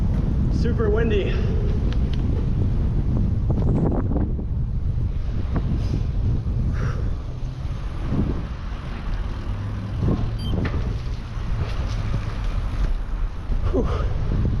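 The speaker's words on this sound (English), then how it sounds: "Super windy." Strong wind buffets the microphone while cycling a paved bike trail along the Des Plaines River, a loud continuous low rumble that fills the whole stretch with a few brief gusty swells.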